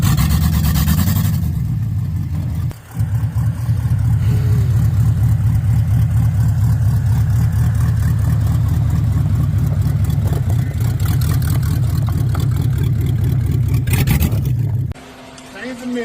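An LS-swapped OBS Ford truck's engine roars steadily as it drives on the street, loud and close, holding a sustained drone for most of the run before cutting off near the end.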